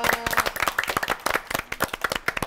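Studio audience clapping on a Korean screen golf show as a power tee-shot contest is announced; a lively burst of close, distinct hand claps in an uneven rhythm, fairly loud and filling the room.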